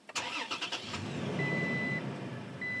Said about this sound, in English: if you have the door open and you start the vehicle